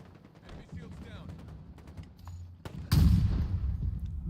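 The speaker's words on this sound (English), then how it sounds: "I just got sniped from up top" Gunfire in a shooter video game, scattered distant pops and shots building to a sudden loud, close blast followed by rumbling echoes, with a player's voice heard faintly underneath.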